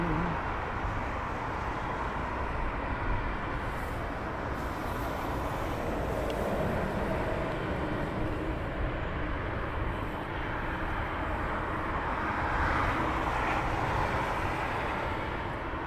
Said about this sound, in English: Craig has put a British Airways 777 from LGW on final